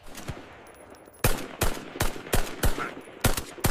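Gunfire in a tense standoff between police and army: about eight sharp, loud shots ring out in an irregular sequence, most of them packed into the last two and a half seconds, over a quiet background.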